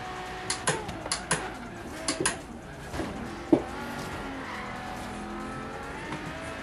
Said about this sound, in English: this car, it sounds great